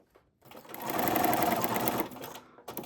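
A sewing machine stitches through paper in one steady, fairly loud run of rapid mechanical chatter lasting about a second and a half, with quiet handling sounds before and after.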